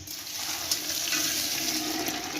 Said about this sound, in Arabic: ميه مغليه بقى وننزل على ده كله